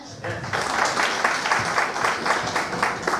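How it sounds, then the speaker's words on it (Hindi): An audience at a Lakhdatar Business gathering claps in a quick, regular rhythm, loud and close, keeping an even beat for several seconds with a murmur of voices mixed in. "आप ताली बजा सकते हैं"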